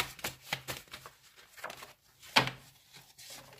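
Tarot cards are shuffled by hand in a few quick riffling and sliding bursts, close and fairly quiet, with no talking.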